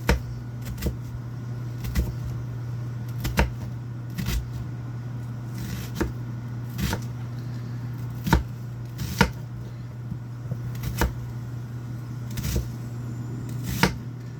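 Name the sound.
knife slicing food into thin slices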